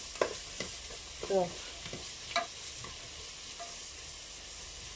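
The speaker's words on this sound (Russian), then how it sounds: "Так, лучок у нас начинает обжариваться. Сейчас я его помешаю." Onions fry in a pan with a constant close sizzle while a spoon stirs them in a few scraping strokes, and someone says a single word.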